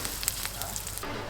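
Asafoetida and amla sizzling in hot mustard oil in a wok, a steady crackling hiss with small pops, fairly close and alone.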